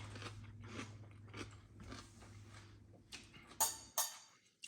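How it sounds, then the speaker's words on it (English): Crunchy pickled cabbage with onion being chewed up close, several distinct crisp bites and crunches over a low steady hum, the loudest bites near the end. "Listen to this crunch."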